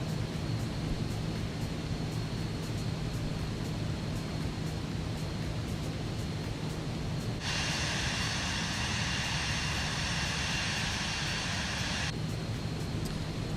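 Steady, even aircraft engine drone from the Microsoft Flight Simulator video game, continuous and fairly loud throughout, with a brighter hissing layer joining in partway through and no voices.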